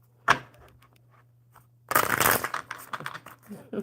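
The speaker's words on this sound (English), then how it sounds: "One more good shuffle, Mobile." Playing cards being shuffled by hand, a brief riffle near the start and a louder, denser burst of shuffling in the second half, close and soft against a quiet background hum.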